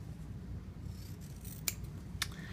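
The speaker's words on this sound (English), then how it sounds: "So I'm just going to continue to cut around with a scant 1/4 inch" Scissors snip through fabric while cutting out a sewn envelope, two crisp, close cuts over a faint steady background hiss.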